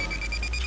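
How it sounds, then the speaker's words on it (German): Repeating electronic beep in BioShock Infinite, a rapid series of short, bright, evenly spaced pulses like an alarm clock over a low background hum. "Wozu der Piepsound bitte?"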